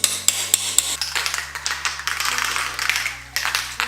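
An improvised hammer taps dowel pins into a 5.3 LS engine block, sounding as sharp metallic knocks, a few spaced strikes at first and then softer irregular clatter.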